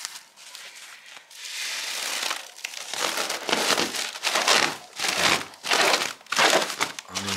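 Cotton wool is stuffed into a plastic bag, giving bursts of loud, close crinkling and crushing that grow busier and more rhythmic after the first few seconds, with no talk.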